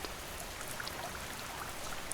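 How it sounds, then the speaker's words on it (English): Rain patters steadily on a cabin window, a dense, even hiss of small drops with faint scattered taps, soft and constant throughout without any voices. "the rain taps on the window"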